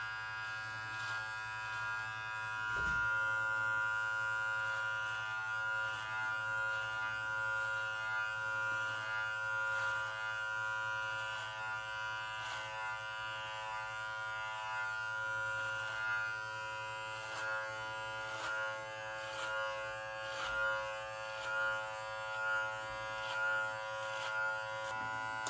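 An electric beard trimmer runs continuously while trimming a beard, a steady close motor buzz with slight shifts in tone as it passes through the hair.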